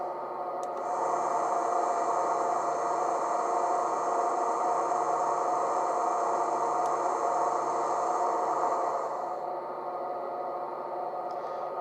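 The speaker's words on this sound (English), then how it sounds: "F11 is the compressor." Compressor sound effect from a Dapol Class 68 model locomotive's sound decoder runs as a steady, loud mechanical drone with a high whine. It stops after about nine seconds, leaving a lower hum.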